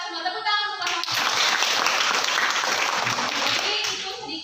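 A class of students applauding, heard as a loud dense burst of clapping that follows a voice and holds steady for about three seconds before easing off.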